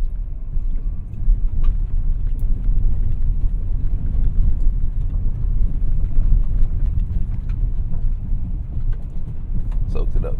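A 2024 Mazda CX-90 rolls over rough, rocky terrain, heard from inside as a continuous loud low rumble with faint scattered ticks of small stones kicking up.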